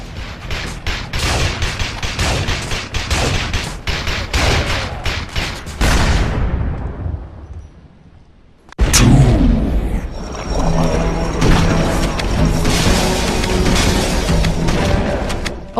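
SPAS-12 shotgun fire in a video game, loud booming blasts in quick succession with heavy rumble, fading into near silence before a fresh blast and a steady roaring, crackling battle din that carries on to the end.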